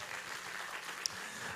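A church congregation at a Sunday worship service applauds steadily, a soft, even patter of many hands clapping with no voices over it.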